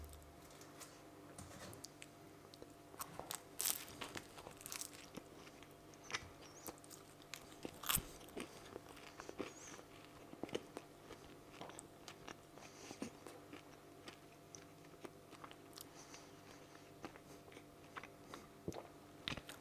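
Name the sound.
biting and chewing a salty pastry with butter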